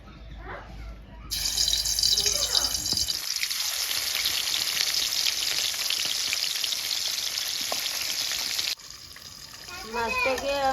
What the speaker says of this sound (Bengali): তেল গরম হয়ে গেছে, এখন মাছটাকে ভেজে নিব।